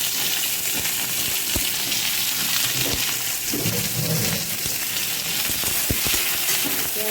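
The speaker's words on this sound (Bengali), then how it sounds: "পেঁয়াজগুলোকে আমি একটু লাল লাল করে ভেজে নেব।" Garlic and onion frying in hot oil in a pan, a steady dense sizzle throughout with occasional stirring clatter, close and fairly loud, no talking.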